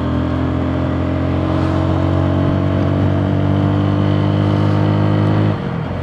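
A Neco NC-N01 125 motorcycle engine drones steadily while riding, a loud constant hum that holds pitch before easing off near the end.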